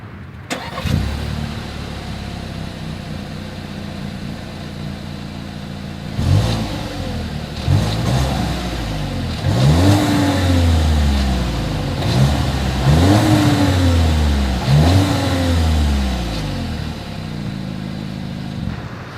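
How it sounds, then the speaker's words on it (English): A 2021 Volkswagen Tiguan starts up, settles into a low idle, then its exhaust is revved about five times in quick rising-and-falling bursts, heard up close with no talking. "As always, here is that exhaust clip."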